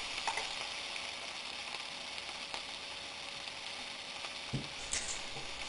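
Chopped onions sizzle steadily in a hot pan while sautéing until slightly brown, a continuous bright hiss with occasional soft taps and clinks from stirring.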